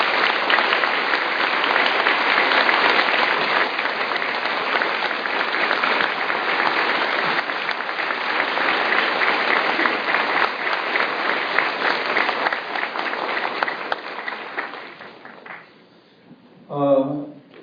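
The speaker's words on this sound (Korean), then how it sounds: "박수 한번 쳐주시고요" A church congregation claps warmly and steadily for an elder being welcomed forward, a dense sustained round of applause that tapers off near the end before a brief voice cuts in.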